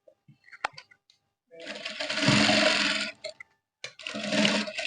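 A sewing machine stitches a trouser zip in two loud, close, whirring runs, the first about two seconds long and the second shorter after a brief stop, preceded by light handling clicks.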